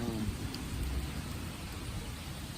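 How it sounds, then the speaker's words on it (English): Heavy rain falling outdoors, a steady dense hiss with low drumming, fairly faint and unbroken, with no voices. "it's raining, coming down pretty good"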